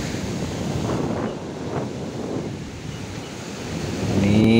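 Big high-tide waves break on Damas beach at Karanggandu, Watulimo, Trenggalek, a rolling roar of surf that swells and fades in gusts under strong wind buffeting the microphone, with a louder surge at the end.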